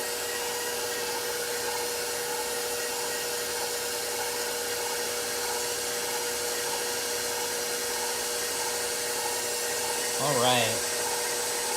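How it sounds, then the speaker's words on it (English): A stand mixer with ingredients in the bowl runs on low as a steady mechanical whir, then its speed is raised slightly, the pitch rising with a brief swell near the end while someone speaks a couple of words. "We're going to raise the stand mixer and start it on low. Increase the speed slightly."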